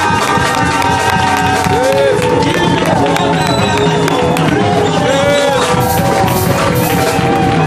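Church congregation loudly acclaiming and cheering together, a dense, sustained roar of voices and clapping that fills the space throughout.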